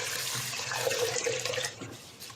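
Water runs steadily from a tap into a rice cooker holding jasmine rice, a close, continuous splashing fill that quiets near the end.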